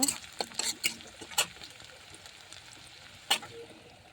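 Spatula scraping and clinking in a pan while rohu fish curry with chopped onion is stirred, a few sharp close taps in the first second and another near the end, with faint sizzling underneath.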